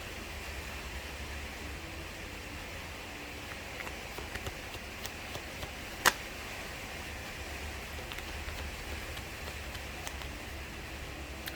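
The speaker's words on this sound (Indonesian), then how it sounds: "Wow, di sini hujan ya." Rain falls steadily as a faint, even hiss with no voices, holding at a low level throughout.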